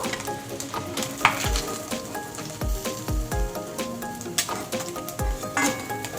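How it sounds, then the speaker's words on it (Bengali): Steady, close sizzle of parshe fish frying crisp in hot oil, a continuous crackling hiss with a few soft clinks and tonal sounds in the background. "কড়া করে ভেজে নিয়েছি মাছগুলো আমি"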